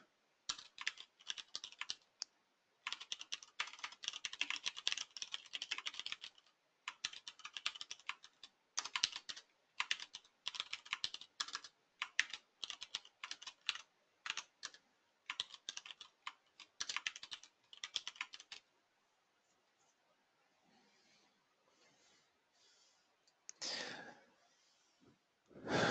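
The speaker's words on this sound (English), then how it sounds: "if you don't understand why I'm typing this stuff" Fingers typing on a computer keyboard during a classroom HTML lesson: rapid, uneven bursts of close, crisp key clicks separated by short pauses, with quieter tapping near the end.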